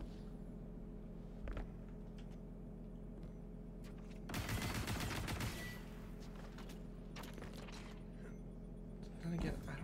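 Gunfire in Destiny 2, a loud burst of rapid shots lasting about a second and a half amid steady game ambience, with another short burst near the end.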